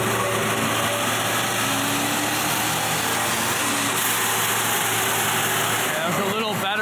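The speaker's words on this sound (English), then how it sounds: "every time we hear the blow-off valve going on, it's OJ letting out" A supercharged Chevrolet Silverado pickup engine runs in a steady, loud drone during a driving run, with voices mixed in. No distinct blow-off valve burst stands out.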